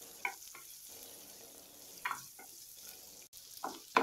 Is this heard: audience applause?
no